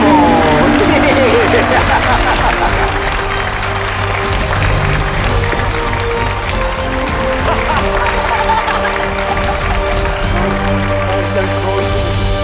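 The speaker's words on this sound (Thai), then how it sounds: "ขอเสียงปรบมือดังๆอีกรอบนึงครับ" A large studio audience at an Iron Chef Thailand cooking battle breaks into sustained, loud applause that holds steady throughout, with crowd noise and voices mixed in underneath.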